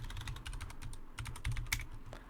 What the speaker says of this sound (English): Install the NFS server utilities. Type the command